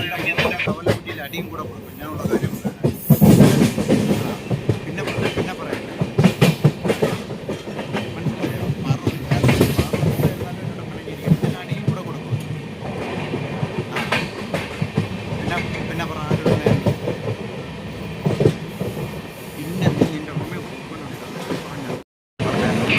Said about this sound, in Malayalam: ചെങ്ങന്നൂർ റെയിൽവേ സ്റ്റേഷനിൽ ട്രെയിൻ എടുത്തിട്ടുണ്ട്